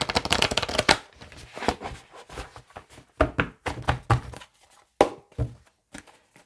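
Tarot cards are riffled and shuffled in quick, dense bursts, then a card is drawn and set down, with close, crisp papery slaps and taps in short rhythmic runs.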